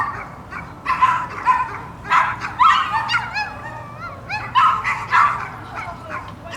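Neighborhood dogs yipping, barking and whimpering in quick, high-pitched bursts, loud and close, with repeated whines between the barks.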